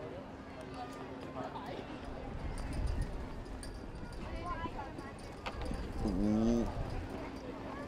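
Hoofbeats of a showjumping horse on a grand prix course at an outdoor show, thudding steadily in the background under commentary, with a brief exclamation and birds cooing nearby.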